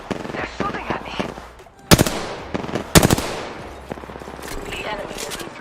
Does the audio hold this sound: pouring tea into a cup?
no